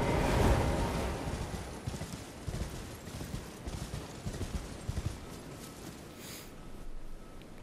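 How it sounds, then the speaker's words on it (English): Horse hooves clip-clop in the video game Elden Ring, a steady run of soft, muffled footfalls over a windy, rushing background, moderately faint and continuous throughout with no talk. "it's the horse"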